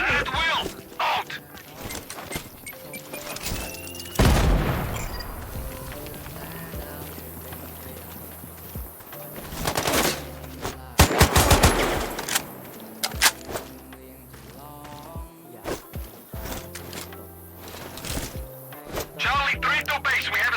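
Gunfire in the video game Sniper Ghost Warrior Contracts 2: a few sharp, loud shots stand out, two of them close together near the middle, over a steady game soundscape with voices talking.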